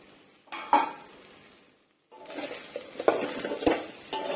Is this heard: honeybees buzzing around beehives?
no